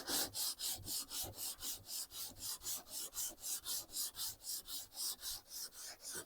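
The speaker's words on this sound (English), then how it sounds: "So we're going to get this sanded down, and I'll show you what to do from there." Primer is sanded on the bodywork of a 1972 El Camino with fast, even back-and-forth strokes. The close, steady rasping repeats about three times a second and runs throughout with no talking.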